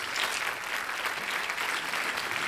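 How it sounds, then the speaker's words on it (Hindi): Sustained audience applause fills a TV quiz show studio on Kaun Banega Crorepati season 11, a steady dense wash of clapping from start to finish with no break. "तालियां बजती रहें इनके लिए"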